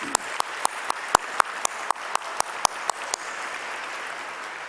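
An audience applauds after a keynote address at a formal event, a dense wash of clapping with a series of sharp, regular louder claps standing out near the microphone before it settles into a steadier, quieter applause.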